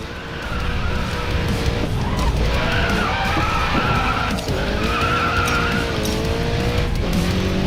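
A car drifts with sustained tire squeal and a revving engine in the mobile racing game Racing Master, loud and continuous throughout with pitch sweeps as it slides.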